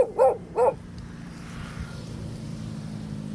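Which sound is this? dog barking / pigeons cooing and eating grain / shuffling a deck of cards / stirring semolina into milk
dog barking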